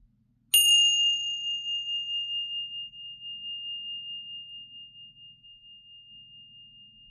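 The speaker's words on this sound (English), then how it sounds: "So let's ring these bells" A single bell struck once, used to clear energy, giving a bright ding that rings out with a long, slowly pulsing decay lasting several seconds in an otherwise quiet room.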